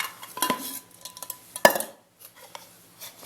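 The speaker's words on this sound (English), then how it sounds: "As for pots and pans, I'll show you what I'm bringing." Camping cookware pots and a spoon clatter and scrape as backpacking gear is handled for an Appalachian Trail thru-hike, with a sharp metallic clank in the middle, a few softer knocks around it and quiet stretches, no talk.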